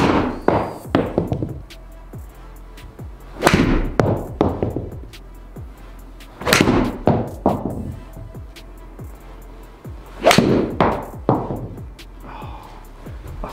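Golf irons, a TaylorMade P790 Ti and a Callaway Epic Forged, strike balls in a series of sharp, close impacts, several crisp clicks followed by fading rushes of ball flight, with quiet gaps between shots.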